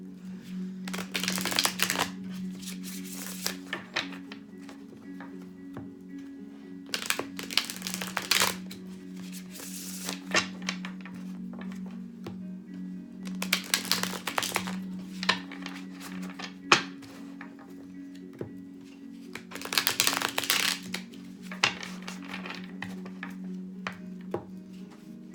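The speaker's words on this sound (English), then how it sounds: "Let's do some shuffling here" Tarot cards are shuffled in four separate bursts of rapid riffling, close and crisp, with quiet pauses and a low steady hum between them.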